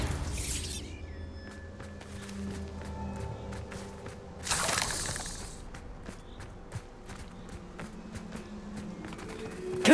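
In Hogwarts Legacy, a Bombarda blasting spell bursts and shatters objects: two sharp blasts, the first near the start and a louder one midway, amid scattered clicks, crunches and footsteps.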